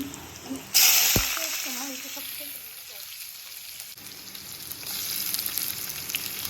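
Cumin and mustard seeds dropped into overheated oil burst into a loud close sizzle that settles into a steady hiss and swells again toward the end, with a voice speaking briefly near the start.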